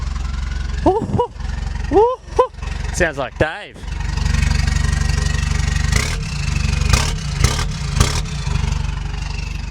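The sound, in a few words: Toyota Hilux engine running loud without its muffler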